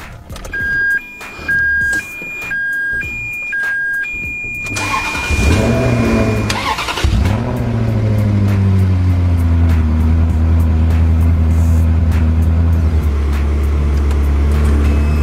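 Electronic warning chimes beep in a pattern, then an old Ferrari engine cranks and fires up loudly, settling into a deep, rumbling idle with some revving.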